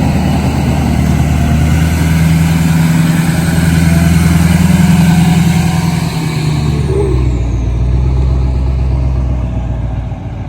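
A truck engine drones steadily and loudly from inside the cab while the vehicle is driven, with a low rumbling hum that shifts slightly in pitch partway through.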